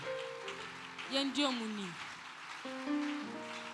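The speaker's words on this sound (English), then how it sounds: "Let's keep clapping for them." Continuous clapping from a church congregation at a service in Accra forms a rain-like wash of many hands beneath someone speaking and a few held keyboard notes.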